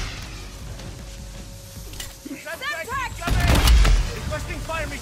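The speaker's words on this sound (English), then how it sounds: "I called a mortar strike down on the bridge" Mortar strike explosions crashing down on a bridge in a first-person shooter video game, with a heavy booming blast rising near the end over crackling gunfire, alongside a player's voice talking.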